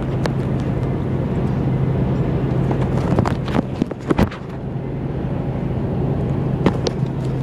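A car driving home along a road through open country land, with steady road and engine rumble throughout and a few brief knocks and clicks from inside the cabin.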